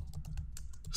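Rapid computer keyboard typing of a pip command in a terminal, a dense run of close, crisp key clicks filling the whole second without talk.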